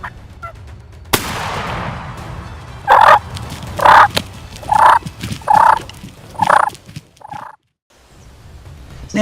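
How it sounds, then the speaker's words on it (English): Wild turkeys gobble in a run of five loud, evenly spaced rattling calls close by, preceded by a sharp crack and rustling outdoor noise, then a brief silence. "Now let's see hunters take down wild turkeys."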